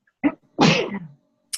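A single sharp sneeze with a short breathy intake before it, close and loud in an otherwise quiet room, followed a moment later by a faint hiss.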